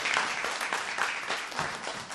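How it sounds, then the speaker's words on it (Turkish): Guests at a civil wedding ceremony applaud a wedding witness. The steady applause from the room is fairly faint and continues on its own for a couple of seconds. "Alkışlarla lütfen."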